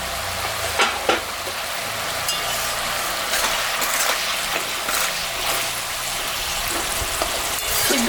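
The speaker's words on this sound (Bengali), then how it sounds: "এখন আমি জল দেবো, সিদ্ধ হবে।" Malabar spinach stems simmer in water in a pan, making a continuous bubbling sizzle with a few light clicks of stirring, fairly loud and close, with no voices.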